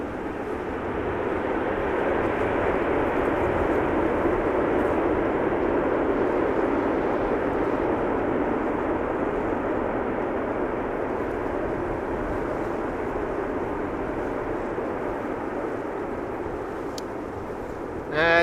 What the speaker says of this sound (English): China Southern Cargo arriving from Guangzhou